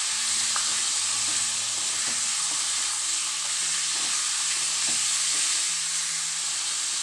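Liver pepper dry masala fries in a pan with a dense, continuous sizzle and hiss, loud and close, with faint stirring scrapes scattered through.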